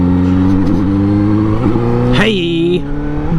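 A Suzuki GSX-S sport motorcycle engine close up at a drive-through, a loud steady idle with a few blips of the throttle and one sharp rev rising in pitch, then settling back.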